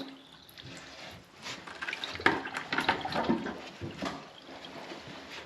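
Water gurgles and splashes in a blocked drain, with irregular bubbling bursts and drips that swell in the middle and fade, fairly quiet and close.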